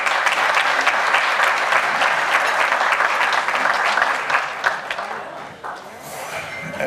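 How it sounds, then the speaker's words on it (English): Hearty applause at a bowling hall of fame dinner for women's division county tournament winners, dense and loud clapping that dips and thins after a few seconds, then briefly swells again. "Please give them a round of applause."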